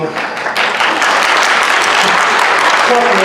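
Audience applause fills a school board town hall, starting after a brief quieter moment and swelling into dense, sustained clapping throughout, with some voices mixed in near the end.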